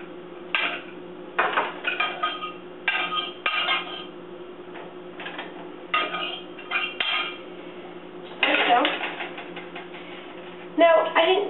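Orzo risotto is stirred in a pot with a metal spoon, making repeated clinking, scraping strokes in irregular bursts, close and fairly quiet, with a low steady background hum.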